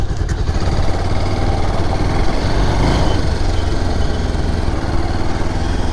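A motorcycle engine runs steadily and loudly at close range on a ride near a rocky cafe at Denkanikottai, its low throb continuous throughout with no talking.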